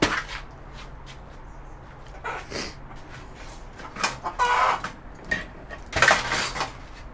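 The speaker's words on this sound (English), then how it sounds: "the chicken approves." A chicken clucks in several short bursts mixed with clattering sounds like dishes or metal, in an indoor setting where a network switch is being taken apart for scrap.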